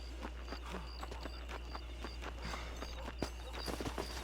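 Hooves of a War Horse in Red Dead Redemption 2 clip-clop in a steady walking rhythm, close and moderately loud over a constant low rumble of game ambience.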